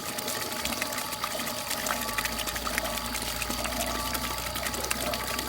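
Water pump run from a cheap used solar panel, a steady whirring motor hum with water splashing and gushing continuously throughout, close and even in level.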